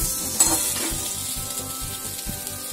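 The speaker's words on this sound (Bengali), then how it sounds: "এবার এরকম ভাবে ভালো করে সাঁতলে নেব।" A steady, close sizzle of potato and pointed gourd curry sautéing in a pan, with occasional light stirring knocks.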